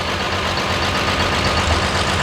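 Cummins-powered monster truck engine idling as it warms up, a steady loud low rumble filling the whole stretch with no voices.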